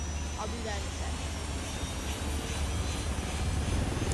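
A helicopter in the video game Ghost Recon Wildlands flies with a steady, continuous rotor and engine drone, a low rumble holding constant throughout with no clear speech over it.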